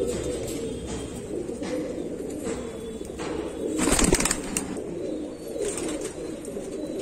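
Madrasi pigeons cooing close by, soft low throaty coos repeating steadily over a faint background hum, with a brief flutter of wings midway.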